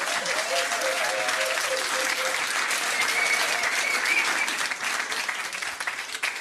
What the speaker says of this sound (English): give them a round of applause for trying though